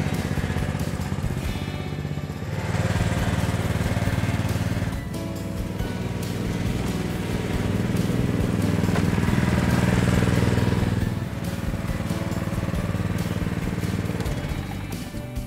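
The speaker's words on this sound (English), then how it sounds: "this super new ride-on mower from Cobra" Cobra LT62HRL ride-on lawn tractor mowing grass, its engine droning steadily and fairly close with a low, rumbling hum that swells and eases slightly throughout, running alone without talk.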